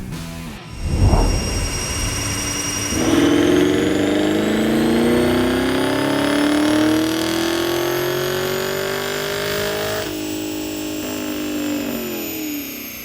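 A 2017 Camaro SS with an LT1 V8 makes one long, loud wide-open pull on a dyno. The engine note climbs steadily in pitch over about ten seconds, then eases off near the end. No talking is heard.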